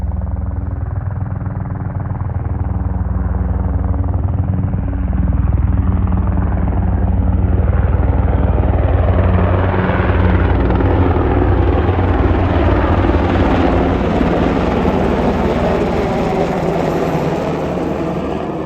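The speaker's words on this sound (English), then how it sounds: "to give you a demonstration of the helicopters, here comes a couple." A pair of helicopters passes overhead near Reagan National Airport, a loud continuous rotor roar that swells and holds steady as they fly low along the river, with no talking.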